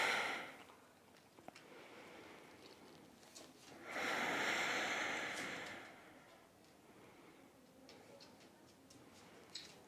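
Deep, slow breathing during a Hanumanasana hamstring stretch in a yoga flow. Quiet and close, with one long, airy breath swelling for about two seconds in the middle, surrounded by faint ticking and soft room noise.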